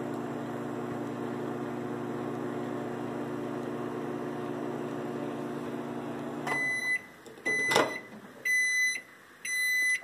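A microwave oven hums steadily while heating Model Magic modeling compound, then the hum cuts off and a series of loud, high electronic beeps follows in short bursts near the end.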